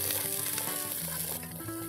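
Red chilies, jalapeños and lime leaves fry in hot oil like a tadka for a spicy Thai-style coconut lemongrass soup, crackling with a close, steady sizzle over soft background music.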